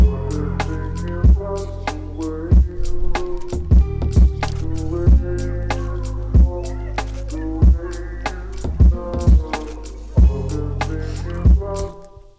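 A mellow lo-fi beat plays alone, with punchy kick and snappy percussion hits over soft sustained chords in a slow, steady loop.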